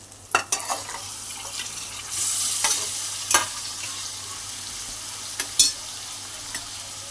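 Chicken fries in a pan with a continuous close sizzle while a utensil stirs it, scraping and clinking against the metal a few times, with one longer hissing surge near the middle; no one speaks.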